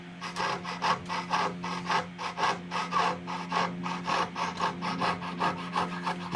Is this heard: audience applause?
no